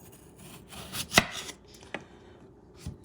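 A knife cuts through a potato on a board while it is prepared for fries, with one sharp, loud chop, then a lighter cut and a faint third tap in a quiet setting.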